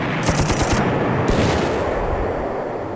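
Gunfire and artillery in the war strategy game Panzer Corps, a rapid loud burst of shots that gives way to a rumbling boom and fades.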